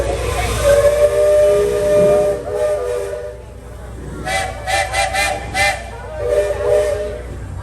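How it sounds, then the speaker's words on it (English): Long, wavering steam whistle from a train on a swing bridge blows for several seconds, then a series of short, pulsing toots follows, loud and fairly near. "There was the train in perfect position on that swing bridge playing whistle tag."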